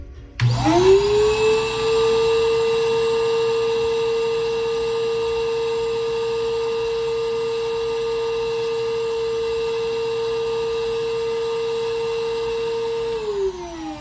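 Vinyl record cleaning machine vacuuming a record: a loud, steady vacuum whine with a sustained motor tone that spins up abruptly, holds evenly for about twelve seconds, then cuts off near the end, with no talking.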